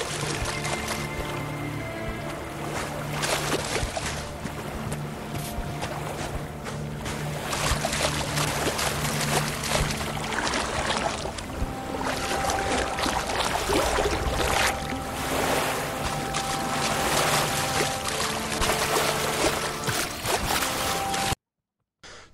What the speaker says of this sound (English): There's detail even in small things such as water splashing.